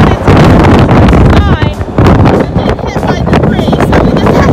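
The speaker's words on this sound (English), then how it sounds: "it is so windy right now" Strong gusting wind beside a Nissan NV2500 High Roof cargo van roars steadily and loudly against the microphone, with a voice talking through the buffeting.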